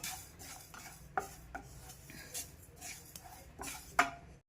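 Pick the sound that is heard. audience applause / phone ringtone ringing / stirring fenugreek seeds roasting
stirring fenugreek seeds roasting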